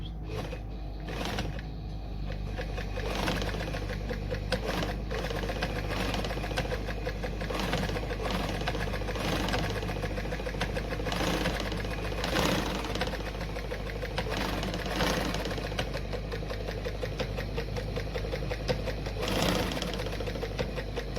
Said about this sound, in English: Okay, then I take this down to 4 again, and when I sew through now,